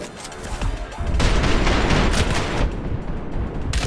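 Shotgun gunfire in the first-person shooter game Trepang2: dense, rapid blasts pile into a continuous loud barrage, with a brief lull and then a final burst near the end.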